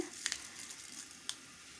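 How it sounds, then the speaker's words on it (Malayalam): Mustard seeds, fenugreek and dried chilies frying in hot oil for tempering a mango curry, giving a soft steady sizzle with a few sharp pops and crackles near the start and one more later. "ഇനി നമുക്കിതിലേക്ക് കുറച്ച് കടുകും ഉലുവയും മുളക് കൂടെ ഒന്ന് വറുത്തിട്ട് കൊടുക്കാവേ"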